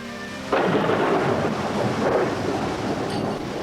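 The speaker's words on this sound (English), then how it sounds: "it's raining buckets and blowing a gale" Heavy rain roars in suddenly and keeps pouring, with a broad rushing wash of noise that sounds like strong gusting wind and a rumble beneath.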